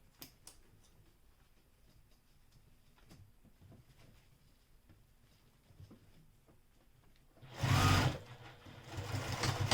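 A sewing machine top-stitches close to the edge of a small bag pocket at a long stitch length, running quietly with soft ticking before a louder burst of stitching near the end.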